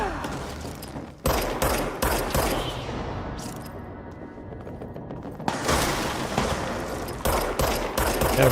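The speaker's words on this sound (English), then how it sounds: "They have rifles that shoot through concrete, apparently." Rifle gunfire in the action video game Control, loud rapid bursts and sustained automatic volleys with heavy booms, up close, broken by a short quieter stretch.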